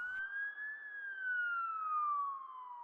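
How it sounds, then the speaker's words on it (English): A police car siren wails alone in a single slow, smooth sweep that rises and then gradually falls, loud and clear with nothing else around it. "followed by the wail of a police siren."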